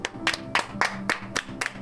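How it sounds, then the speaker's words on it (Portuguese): Rhythmic clapping from a church congregation at a Sunday morning service, about seven sharp, evenly spaced claps in quick succession, moderately close and alone, with no talk over them. "Palmas para Jesus"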